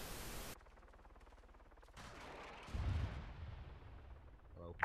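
An RPG shot and explosion destroying an ammo cache in a war video game set in Kunduz, Afghanistan: a sharp burst opens, a broad rumbling blast swells near the middle, and a crackling rush follows, all loud and close with faint talk underneath.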